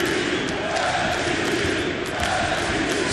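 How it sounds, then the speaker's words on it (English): An arena crowd at a Bellator MMA title fight roars in a dense, steady wall of cheering and shouting, sustained and loud throughout. "And listen to this crowd."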